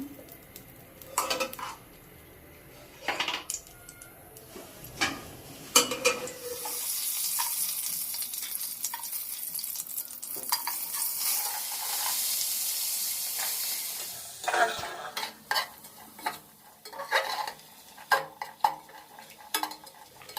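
Nuts frying in a little ghee while being stirred in a pot: metallic spoon scrapes and clinks come and go, with a steady hissing sizzle rising in the middle stretch, fairly close and with no talk.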